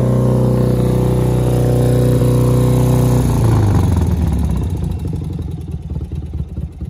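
A BMW R100 brat-style motorcycle engine running, a loud close steady idle hum that shifts partway through into a lower, lumpier galloping rumble and eases off slightly, no talk over it.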